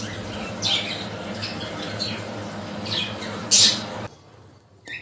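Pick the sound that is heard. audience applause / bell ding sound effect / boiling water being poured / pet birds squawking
pet birds squawking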